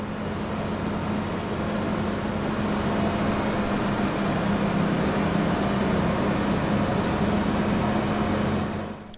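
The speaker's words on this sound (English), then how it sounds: "So this is the sound of the new Valtra" Engine of the new Valtra tractor, the gold edition, in Farming Simulator 25: a steady, fairly loud low droning run with a constant hum, holding evenly for about nine seconds before cutting off, no voices.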